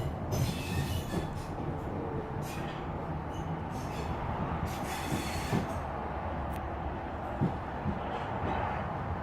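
A SouthWest Trains passenger train runs along the rails near Aldershot, giving a steady loud rumble with occasional clicks and faint wheel squeals throughout, and no voices.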